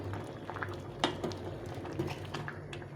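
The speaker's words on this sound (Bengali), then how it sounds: "একদম ভালো করে সিদ্ধ করে নিতে হবে" Khichuri with potatoes bubbling steadily in a pot, a continuous close simmer with small pops and a few soft clinks, no talking.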